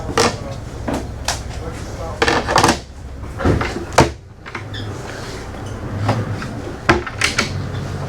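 Big drawers beneath a berth on a Nautitech 48 catamaran slide open and shut in a series of sharp wooden knocks and thuds, several close-up bangs spaced irregularly across the interior, with some background noise between them.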